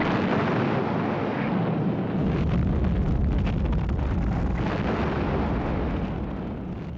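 Heavy naval bombardment pounding Iwo Jima in February 1945: a dense, continuous wall of deep booming blasts and rumble, loud and sustained throughout with no voices.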